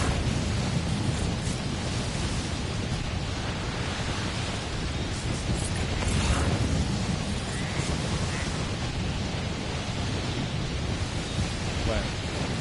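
Rockets go off like fireworks in the video game Death Stranding, making a continuous, distant rumbling roar with dense crackling that swells slightly midway.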